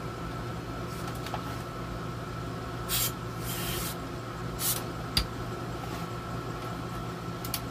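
Several short bursts of cleaner spraying into a 1980s radio's volume potentiometer, over a steady electrical hum and background noise, the longest lasting about a second.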